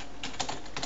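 Quick soft clicks of typing on a computer keyboard, a few keystrokes in a short burst, close and fairly quiet.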